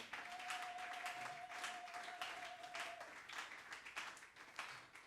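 A church congregation applauds, a dense, continuous patter of many hands clapping together with a faint, distant feel, keeping up evenly for several seconds.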